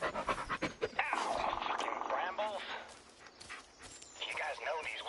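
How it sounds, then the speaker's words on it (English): A dog pants rapidly in a PS4 video game, close and rhythmic, layered with other game sounds and a person talking. "Yeah, good dog."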